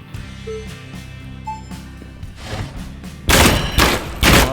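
Gunfire in the video game Gunsmith Simulator: after some quiet thumps, a loud burst of rapid shots erupts, followed by another close, sharp volley.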